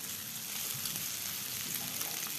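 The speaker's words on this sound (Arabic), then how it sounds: "تعتبر الفراخ بتاعتنا دلوقتي داخله على مرحله التسويه" Chicken pieces frying in a pan as they near doneness, giving a steady, dense sizzle that runs unbroken and close throughout, with no talking over it.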